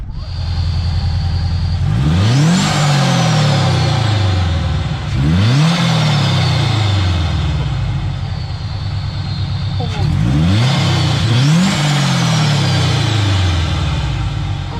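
Supercharged Toyota GT86 engine fitted with a Jackson Racing supercharger, revving hard in three repeated bursts that climb and fall, with a supercharger whine rising over each pull and a steady idle between; people talk nearby.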